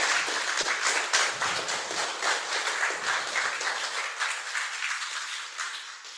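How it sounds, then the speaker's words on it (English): Audience applause for a lecturer at an observatory public talk, a full round of clapping that stays strong at first and then thins and fades slightly toward the end. "Can we get one more round of applause for Professor Dongwoo Chung?"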